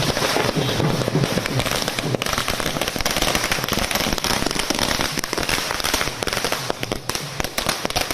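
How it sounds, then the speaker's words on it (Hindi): Fireworks at a celebration outside the Congress party headquarters, a dense, loud barrage of firecracker crackles and pops continuing without pause, like a steady rattling string of bursts. "कुमार विक्रांत, एक तरफ ये तस्वीरें हम दिखा रहे हैं कांग्रेस मुख्यालय की जहां पर जश्न हो रहा, आतिशबाजी"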